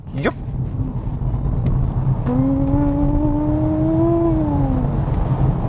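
A Polestar 2 Dual Motor Performance electric car accelerates: a smooth, rising motor whine sets in after about two seconds, climbs steadily for roughly three seconds, then fades, over a constant rumble of road and cabin noise.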